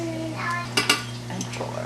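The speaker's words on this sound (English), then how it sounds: "You just want to stir that up. Let the flour soak up all that butter." Flour is stirred into melted butter in a pan for gravy, with a couple of sharp metal utensil clinks against the pan and lighter scraping over a steady low hum.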